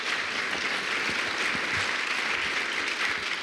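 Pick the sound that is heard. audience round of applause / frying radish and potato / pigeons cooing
audience round of applause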